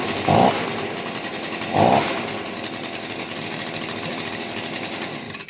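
A warm Stihl petrol leaf blower engine runs steadily at close range, a loud buzzing drone with a rapid pulsing rhythm, briefly swelling twice near the start before cutting off at the end.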